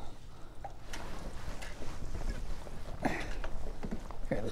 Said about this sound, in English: The wind's blowing me into the dock